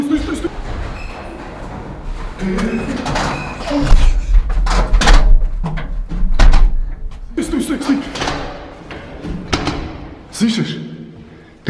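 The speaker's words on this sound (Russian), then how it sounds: "сейчас постучай, давай." Knocking and banging on an apartment door, several loud thuds in bursts, heard close up under hushed talk and movement.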